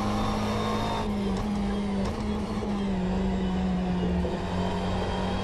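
GT3 race car driving at Road Atlanta in rFactor 2, a loud sustained engine drone holding a steady pitch with slight dips and rises through the corners, heard close and continuous.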